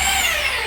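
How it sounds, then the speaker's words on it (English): A power drill fitted with a screwdriver bit driving screws into a wall in an old Spanish apartment, a brief steady high motor whine held close and loud. "we're using an actual drill with a screwdriver bit to be able to screw it faster"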